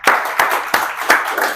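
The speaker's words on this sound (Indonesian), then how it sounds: "berarti tepuk tangan." A classroom of pupils claps in unison, four loud synchronized hand claps in an even rhythm with a short ringing tail after each, close and clear with no talking.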